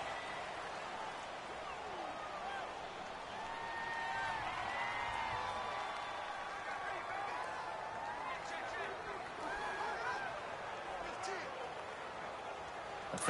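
A home stadium crowd at a Seattle Seahawks versus Los Angeles Rams football game keeps up a dense, loud roar with scattered whistles and shouts, while a commentator talks over it throughout.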